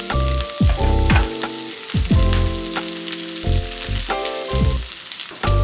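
Garlic sizzles in plenty of hot oil in a pan, with a steady crackle broken by quick stirring scrapes, close and clear with no talking.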